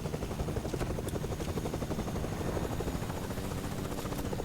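A Fortnite helicopter drones steadily with a dense, continuous rotor chop, loud and close throughout with no talk over it.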